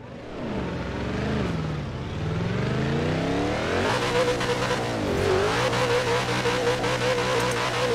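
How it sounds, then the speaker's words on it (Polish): A car in the Forza Horizon 4 Hot Wheels expansion revs and accelerates hard, engine pitch sweeping up through gear changes and staying loud and close throughout, with a denser roaring texture in the second half. "Zobaczmy, co się stanie, jak dodam gazu."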